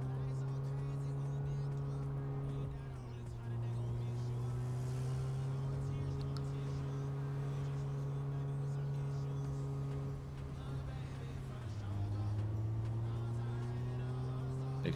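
Steady car engine drone from a driving sequence in the business-sim video game Big Ambitions, a loud continuous hum whose pitch dips twice as the car slows and shifts, with faint talk over it.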